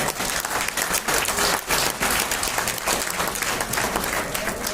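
Lecture audience at the Lateef Jakande Annual Memorial Lecture breaks into dense, vigorous clapping, loud and continuous with slight swells, many hands together in an indoor hall.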